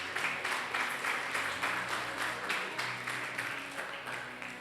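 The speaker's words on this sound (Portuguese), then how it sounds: "aplauda o nome do Senhor" A church congregation applauds during a Sunday service, a sustained wash of clapping with individual claps audible, fading slightly toward the end.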